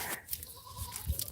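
A goat bleats outdoors in the afternoon, giving one brief, fairly faint call over light background noise.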